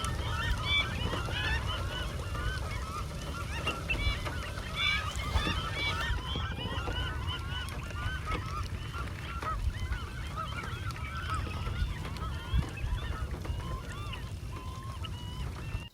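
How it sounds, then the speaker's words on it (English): A busy wildlife refuge rings with a dense mix of shorebird calls, including American Avocets, many overlapping honking and chattering cries at moderate distance over a steady windy background, continuous for the whole stretch. "Here is a mixture of the birds I heard at the refuge that day."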